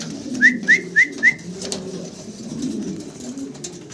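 Fancy pigeons in a loft give four quick, high, whistle-like notes in a fast even run, followed by a soft low murmur of background noise without speech.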